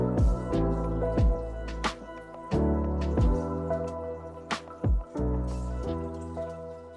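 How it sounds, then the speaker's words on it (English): Coolant pours through a funnel into the reservoir of a BMW F80 M3 with an S55 engine, in several separate gurgling, splashing bursts with brief pauses, close and fairly quiet. "I'm gonna get a funnel so I'm as clean as possible over here, and just refill it"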